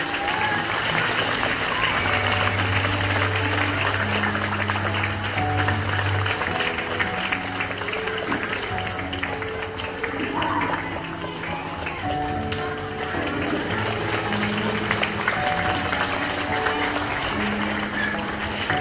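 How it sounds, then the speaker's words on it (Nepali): An audience applauds for an award at a ceremony, a sustained dense clatter of clapping lasting nearly twenty seconds, with a steady tonal backing and faint voices under it. "यो पुरस्कार दिँदाखेरि ठुलो स्वरले ताली बजाइदिनु भयो भने"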